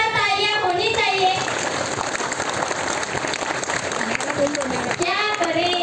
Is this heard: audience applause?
yes